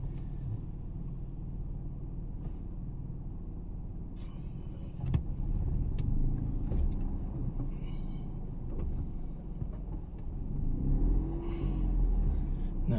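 Small car driving slowly through town streets while searching for parking, a steady low engine and road rumble with some brief louder passages, heard close from inside the cabin.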